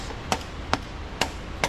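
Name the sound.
hammer taps on a car suspension strut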